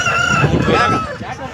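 A rooster crows close by, loud and drawn out, over busy background noise with faint voices at a poultry market.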